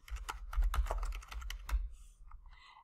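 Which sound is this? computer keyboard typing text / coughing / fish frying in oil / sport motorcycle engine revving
computer keyboard typing text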